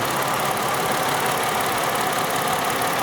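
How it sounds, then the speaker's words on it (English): A Ford Mercury V6 with an open number-one injector fault idles roughly and misfires, a loud, steady close engine drone with no talking. "it's shaking, it's misfiring"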